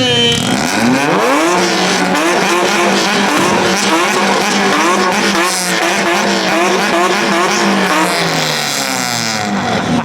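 Two tuned cars rev their engines together at a car meet in Japan, a loud, sustained layered roar with rising and falling pitches that overlap continuously and close by.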